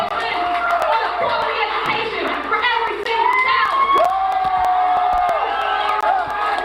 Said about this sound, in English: I hear the crowd way more than her